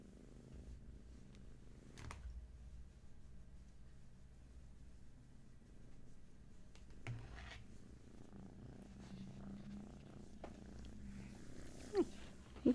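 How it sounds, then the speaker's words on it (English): A domestic cat purrs steadily and close by for the whole stretch, a low continuous rumble with a few brief knocks and rustles near the end. "If you hear that, that's the cat purring."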